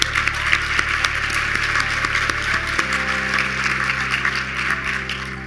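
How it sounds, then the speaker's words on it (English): A conference audience applauds the planning team, producing a dense, even spread of clapping throughout over a steady low electrical hum that shifts pitch partway through. "So I will ask you to give them a round of applause too."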